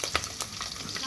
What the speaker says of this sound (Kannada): ಇವಾಗ ಎಣ್ಣೆ ಬಿಸಿ ಮಾಡಕ್ಕೆ ಕುಕ್ಕರ್ ಒಳಗೆ ಮಾಡತ್ತೇನೆ ರೀ ಇದು ಹಾಕೊಳ್ಳೋಣ್ರಿ ಮೆಣಸಿನ್ಕಾಯಿ